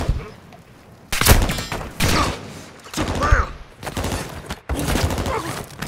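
Bursts of gunfire ring out in Call of Duty Modern Warfare II, loud repeated volleys separated by brief lulls, with mechanical clatter in between.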